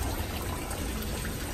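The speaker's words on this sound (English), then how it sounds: "the water level is going down even though I'm adding some auxiliary water there" Water gushes steadily into a sump pit while a Wayne WSS30V combination sump and backup pump drains it, a loud continuous broadband rush with no talking.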